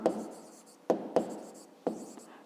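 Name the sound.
writing by hand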